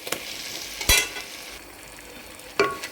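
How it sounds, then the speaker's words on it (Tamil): Marinated chicken pieces are stirred into biryani masala in a pan over a soft sizzle, with two sharp spatula scrapes standing out; no voices. "இந்த சிக்கனை சேர்த்து நல்லா இந்த மசாலையோடையே நல்லா வந்து கலந்து விட்டுக்கலாம்"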